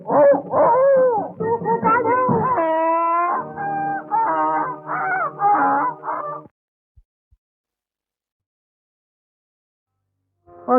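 A voice in a song imitates a howling dog with a run of warbling, drawn-out cries for about six seconds. Near silence follows, and a brief cry returns at the end.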